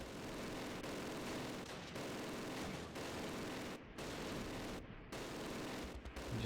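Bursts of small-arms and machine-gun fire crackle steadily in the WWII game Close Combat: The Longest Day at Pegasus Bridge, with a few short gaps between the volleys.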